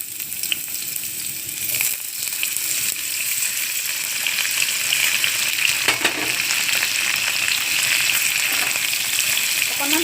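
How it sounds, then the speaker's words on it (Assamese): Boiled vegetables frying in hot oil in a kadai, a steady close sizzle that grows slightly louder, with occasional clinks of stirring against the pan and no talk over it. "ইয়াতে তেলটো গৰম হৈ গৈছে, গতিকে মই সিজাই থোৱা এইখিনি মই ইয়াতে ভাজি ল'ব লাগিব"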